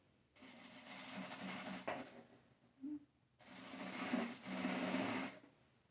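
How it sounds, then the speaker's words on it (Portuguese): Sewing machine stitching the edge of a fabric pencil case, running in two steady bursts of a few seconds each with a short pause between, close and moderately loud with no talk. "Fixa a primeira parte, pode costurar bem na beiradinha ou ali na marca da dobrinha,"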